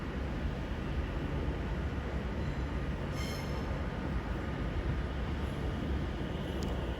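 A London Overground class 710 train terminating from London Euston arrives at Watford Junction with a continuous steady rumble of wheels and brief high brake squeals, heard fairly close with no talk.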